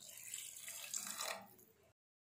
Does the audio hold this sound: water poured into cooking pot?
yes